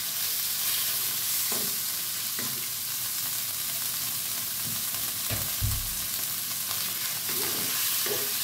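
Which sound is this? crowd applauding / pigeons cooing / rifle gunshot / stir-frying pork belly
stir-frying pork belly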